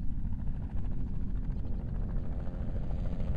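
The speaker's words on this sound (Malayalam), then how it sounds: "അതായത് ഹെലികോപ്റ്റർ എത്തിക്കഴിഞ്ഞു" A helicopter arrives in a video game, its rotor and engine producing a constant low, throbbing rumble that stays close and steady throughout.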